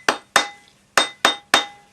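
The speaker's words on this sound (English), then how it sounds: "round it up on your ring mandrel with a rawhide hammer." A rawhide hammer strikes a metal ring on a ring mandrel, five sharp, close knocks in an uneven rhythm, each leaving a brief metallic ring that fades before the next blow.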